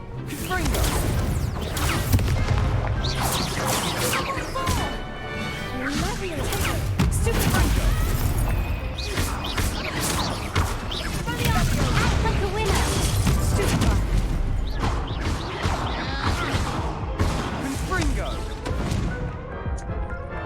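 Fire-blast spell explosions in a wizarding video game, a dense barrage of crashing, booming impacts and clattering debris over music, with a voice occasionally shouting throughout.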